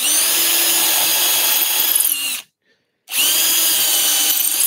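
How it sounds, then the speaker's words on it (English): A power drill whines steadily as it bores into wood for a hand-cut mortise, stops briefly into silence, then starts again at the same pitch, loud and close. "Help keep the drill bit square."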